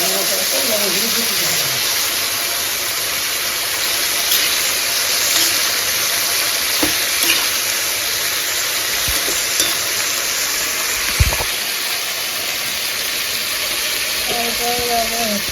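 Raw banana and drumstick pieces are stirred in a sizzling pan, giving a steady frying hiss with occasional utensil scrapes and knocks, and a voice speaks briefly at the start and end.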